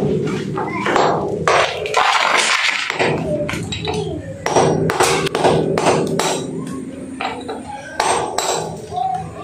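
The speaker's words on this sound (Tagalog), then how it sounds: "So ang gawin na natin ngayon is tiktikan na natin para mabutasan." Hammering and chiseling through a wall to cut an opening for a Carrier window-type air conditioner, with loud, close metallic strikes in irregular bursts and someone talking between them.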